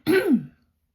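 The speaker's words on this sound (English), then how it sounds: "some kind of, I don't know, morning coughs." One short, rough throat clearing, close and fairly loud, lasting about half a second before quiet.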